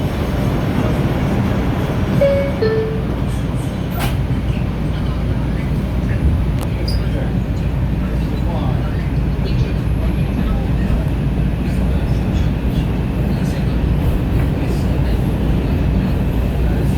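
An R142 New York subway train on the Bronx-bound 5 local along the Lexington Avenue line, heard from inside as a loud, steady rumble and rail roar for the whole stretch, with faint voices in the car.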